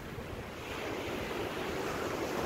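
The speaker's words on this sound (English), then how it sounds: "Maybe I'll just let the waves roll on this videography for a minute or so you can listen to it." Ocean surf rolling steadily onto a shore, a continuous broad wash of breaking waves with wind buffeting the microphone, close and fairly loud with no voices.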